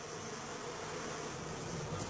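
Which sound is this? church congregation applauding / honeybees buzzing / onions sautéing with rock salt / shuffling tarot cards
honeybees buzzing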